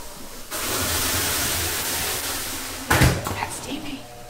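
Steam hisses from a baking oven in a broad steady rush lasting a couple of seconds, followed by a louder clatter and shorter bursts as bread goes in, with people talking around it.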